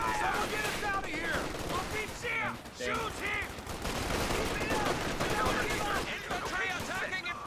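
Gunfire crackles in a real-time strategy video game as an SMG and a machine gun fire bursts that suppress infantry squads, layered with constant battle noise under spoken commentary.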